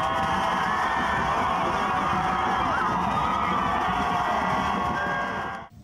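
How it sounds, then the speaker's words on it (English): A large outdoor crowd in Cameroon cheers and shouts to welcome French President Emmanuel Macron, a dense continuous roar of voices with whoops, loud and sustained before cutting off at the end. "A mammoth crowd has been waiting anxiously to give him a hilarious welcome that an august guest deserves."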